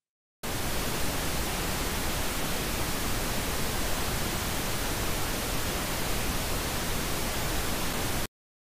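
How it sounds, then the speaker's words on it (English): Pink noise used as a sound design example: a steady, uniform hiss with weight spread evenly from low rumble to high air, starting and stopping abruptly and holding constant loudness throughout with nothing else present. "Pink noise, however, is a little bit different."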